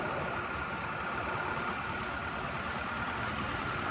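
A tractor engine running steadily through a pipe silencer, a constant close rumbling drone with no variation in rhythm or loudness and no voices.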